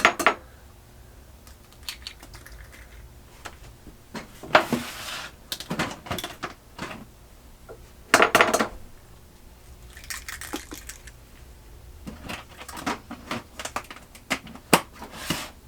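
Eggs going into a small bowl of smooth New York-style cheesecake batter and being mixed, with scattered close clinks of utensil on bowl, soft wet slaps and brief scraping bursts, no talking.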